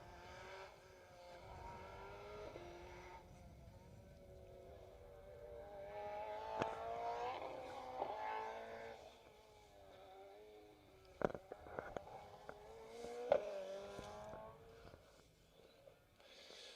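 Ford Fiesta Rally 2 rally car driving a gravel stage on the Western Isles near Loch Tuath, engine rising and falling through gear changes at moderate distance, with a few sharp pops and cracks partway through.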